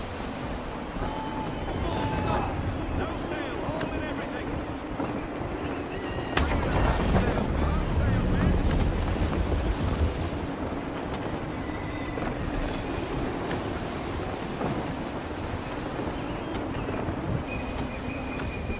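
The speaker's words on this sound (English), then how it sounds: "Wind looks to be shifting. Stay alert, Connor. Gusty winds can be difficult to manage." Gusty wind rushes around a sailing ship at sea in a video game, a steady broadband roar with a louder surge partway through, alongside low creaking and water wash.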